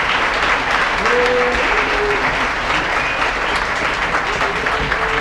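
A town hall crowd in New York City, gathered for the Green New Deal, claps loudly and steadily throughout, with a voice briefly audible under the applause.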